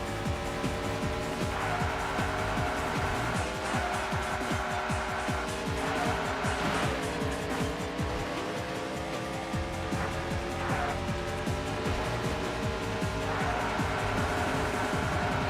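Continuous engine drone of a car in a Sega Saturn racing video game, with steady tonal revving and shifting pitch, occasional tire squeal accents, and no talking.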